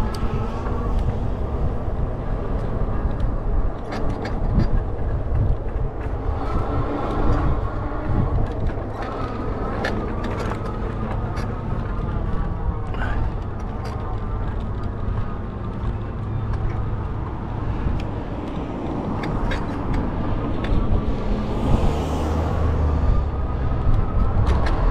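A Coaster commuter train passing near the San Luis Rey River Trail, a steady broad rumble that holds loud and continuous throughout, with a brief higher hiss near the end.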